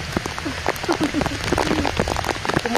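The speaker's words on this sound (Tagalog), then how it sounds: "Isang basa na kami guys sa ulan." Outdoor rain in the Western Visayas countryside patters steadily with frequent drop hits, under lively overlapping voices.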